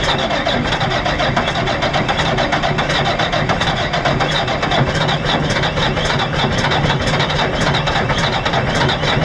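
Komatsu WA600 wheel loader with a Cummins engine and an exhaust leak, idling after a cold start: a loud, steady diesel rumble that continues without a break, close by and with no voices.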